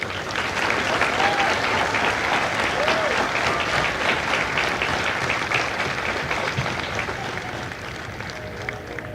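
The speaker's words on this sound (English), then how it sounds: "Please join me in a round of applause for the families of Company K." Sustained applause from a large crowd at a Marine Corps recruit graduation ceremony, dense and steady throughout, with faint cheers and whistles rising above the clapping.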